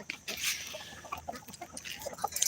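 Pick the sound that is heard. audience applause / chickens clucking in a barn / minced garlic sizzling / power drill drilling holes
chickens clucking in a barn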